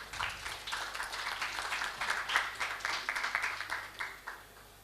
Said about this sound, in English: have a round of applause for our speakers